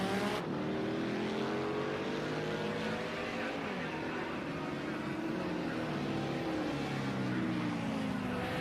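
A vintage BMW touring race car in a sim racing game at Lydden Hill, engine note rising and falling steadily through gear changes, fairly quiet and continuous, with faint commentary underneath.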